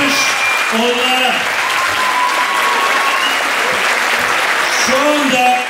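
Audience at a school year-end nostalgia concert applauding loudly and continuously, a dense wash of clapping with a voice speaking over it through amplification.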